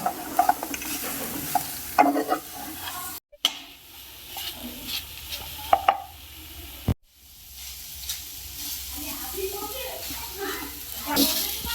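Elephant apple (chalta) fries in a dry pan on high flame, giving a soft, steady sizzle with occasional stirring scrapes, interrupted twice by brief dropouts.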